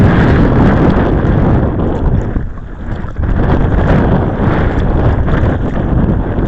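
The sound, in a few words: wind blowing while kayak fishing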